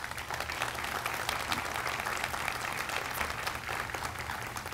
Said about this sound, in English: So a big round of applause to all our trustees.